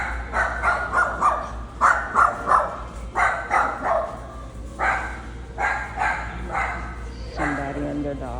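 A dog inside a PetSmart pet store gives a steady run of repeated barks in uneven bursts over a constant low store hum.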